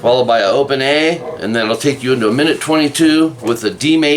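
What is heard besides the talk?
No distinct noise like a dog, phone or traffic.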